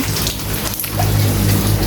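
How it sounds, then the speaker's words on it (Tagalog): Steady rain falling outdoors, a dense, even hiss of drops on surfaces, close and loud throughout with no voices. "It's raining."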